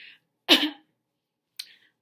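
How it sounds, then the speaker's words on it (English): A single harsh cough, followed a second later by a shorter, quieter cough, in an otherwise silent room. "it hurts to cough a little"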